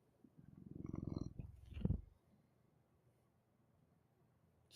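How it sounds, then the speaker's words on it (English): A cat purring up close, a steady rumbling purr lasting about two seconds before fading, with a brief louder shuffle near the end and quiet room tone afterward. "I'm totally getting smothered in purrs"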